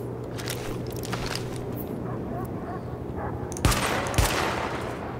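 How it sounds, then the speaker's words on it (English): Gunfire at highlighted targets during a weapon test in the video game Tom Clancy's The Division, a steady crackle of shots under game ambience with two louder bursts near the end. "Open fire at the highlighted targets."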